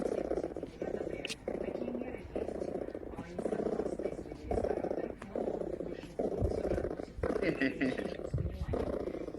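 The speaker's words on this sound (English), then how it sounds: "It's a Marten purring." A marten's purring plays as a phone ringtone, a steady throaty rattling buzz repeating in regular bursts of roughly a second, fairly loud and continuous, with faint voices in the background.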